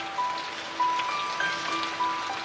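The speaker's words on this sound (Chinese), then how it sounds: "外面还在下雨呢。" Rain falls outside as a steady, even hiss at moderate level behind faint background tones, with no voices.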